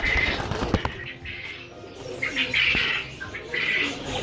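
Pigeons in a breeding loft, with soft repeated cooing and chirps near the start and again toward the end, plus a brief flutter of wings, fairly close and moderately loud.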